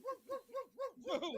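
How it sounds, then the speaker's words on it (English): A dog gives four evenly spaced barks with a rising-falling, howl-like tone, then a louder, rougher fifth bark, close and clear with no talk over it. "Barking."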